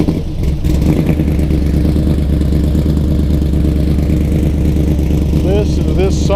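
A 1972 Pro Street Chevrolet Nova at a GoodGuys car show sits running with a loud, steady, deep rumble and no gaps, while voices carry faintly around it.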